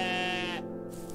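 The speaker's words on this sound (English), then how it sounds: "so nice to see a goat again" A goat bleats in the video game OneShot, a single steady, close, harmonic bleat lasting about a second that drops off toward the end, with no talk over it.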